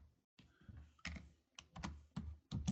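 Someone types on a computer keyboard while entering network settings in a Linux lesson, close bursts of clicking key presses in short uneven runs separated by brief pauses.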